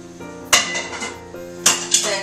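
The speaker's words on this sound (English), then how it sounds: "So I'm going to add my root vegetables here. Just throw those in. And give that a good stir." A spoon scrapes and clinks against a metal pot as root vegetables are stirred into simmering black-eyed pea soup, with several sharp knocks spaced over a soft background hiss.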